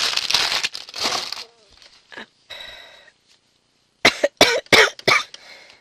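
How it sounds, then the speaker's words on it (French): A woman coughs several times in a quick burst, with a short pause and then a second cluster of sharp coughs, fairly close and loud, with crinkling handling noise in between. "je suis désolée, je tousse"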